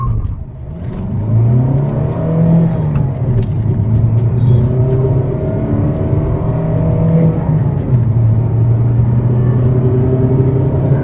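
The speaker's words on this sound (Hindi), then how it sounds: "सबसे पहले लॉन्च करते हैं डीजल इंजन को, raving till 5000 RPM, let's go." A diesel-engined Kia Seltos, a 2026 HTE model, revs up toward 5000 RPM on the road, its loud, steady engine drone rising and falling in pitch as it accelerates, with no talking over it.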